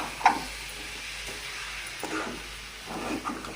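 Sweet potato kheer with cardamom and cashew-almond paste stirred in a pan, soft scraping strokes over a faint sizzle, close and quiet, without talk.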